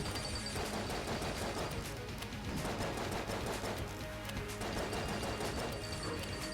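Dense, continuous rapid gunfire from a modded Enter the Gungeon run, with loud overlapping shots crackling steadily throughout over busy game sound.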